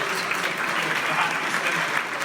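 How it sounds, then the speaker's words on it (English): An audience breaks into brief, dense applause, a full, even wash of many hands clapping at moderate volume with a faint voice mixed in beneath. "Everybody, round of applause for our"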